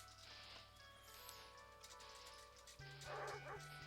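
Dogs in the video game Nom Nom Galaxy yip and whimper faintly, several brief calls set within game music and background hum.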